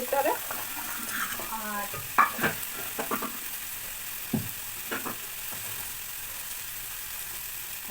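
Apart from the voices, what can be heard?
frying vegetables in a pan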